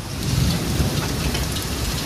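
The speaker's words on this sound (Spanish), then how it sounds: "Fueron horas de lluvia, de mucha lluvia" Heavy rain pours down hard and steady in a dense, continuous hiss of drops beating on surfaces, loud and close for about two seconds with a low rumble underneath and no voices.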